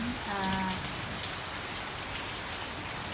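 Rain falls steadily in Nang Rong, Thailand, a continuous broadband patter that holds through the whole stretch, with a brief faint voice-like tone near the start.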